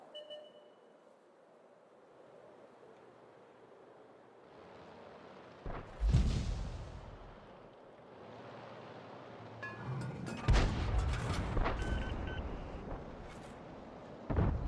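Artillery gun shots in World of Tanks, two loud booming blasts several seconds apart over a low rumbling background.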